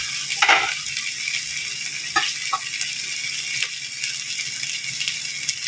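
Ground meat frying in a pan for giniling with egg makes a steady sizzle dotted with sharp crackles, plus a brief scraping burst near the start.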